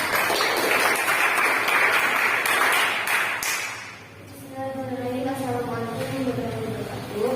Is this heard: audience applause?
yes